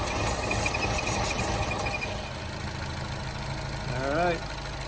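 A 2017 Buick Encore engine idles at a steady, even RPM after a PCV valve air leak in the valve cover is fixed, running continuously at a moderate level.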